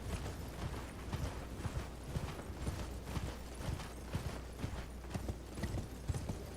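Rhythmic hoofbeats of a horse galloping across open ground in the action role-playing game Elden Ring, a steady, moderately loud three-beat clatter with no speech.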